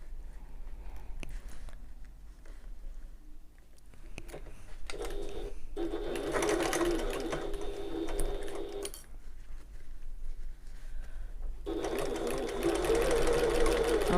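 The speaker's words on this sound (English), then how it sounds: "I'm back stitching at the start and end of all of these little seams, just to secure everything nicely" A sewing machine back stitches short seams on a bag, several bursts of quick mechanical chatter separated by pauses with soft handling noises between them, close and moderately loud.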